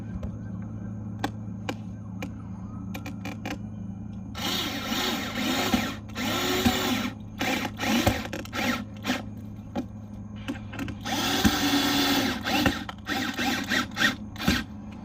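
Power tool tightening splash guard fasteners on a 2018 Acura TLX during a front splash guard install, with repeated short whirring bursts, some longer, broken by pauses and clicks, close and fairly loud, with faint talk in between.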